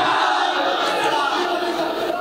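Crowd at an Urs festival all-India mushaira in Mahona, Lucknow, greets a poet's arrival with loud, continuous applause and cheering, a dense roar that holds steady throughout.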